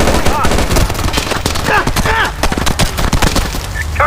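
Gunfire in the SOCOM U.S. Navy SEALs Fireteam Bravo 3 video game: rapid bursts of automatic shots crackle loudly and continuously, with radio-style voice callouts mixed in.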